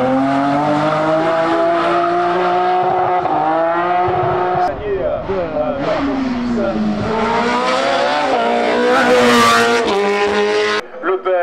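Historic competition race car (VHC class) at the Bagnols Sabran hill climb, its engine screaming loud and close through gear changes with rising and falling pitch, under a continuous spoken commentary.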